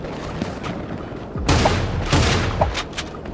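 Double pump shotgun blasts in the video game Creative Destruction: two loud, sharp shots fired in quick succession, then a further shot, over faint background game noise.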